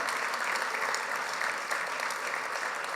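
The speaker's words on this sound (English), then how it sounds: "That does deserve applause." At a 2016 Legislative Summit gala, a large crowd applauds in an even, sustained roar of clapping that holds steady throughout, heard slightly distant.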